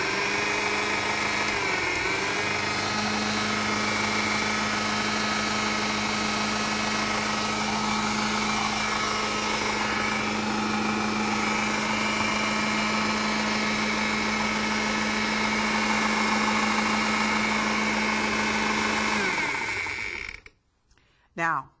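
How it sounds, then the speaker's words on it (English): A blender whirs continuously as it spins silken carob pie filling toward a smooth consistency, a steady high motor drone lasting about twenty seconds before it cuts off abruptly. "you want to make sure that you spin it to a nice smooth consistency"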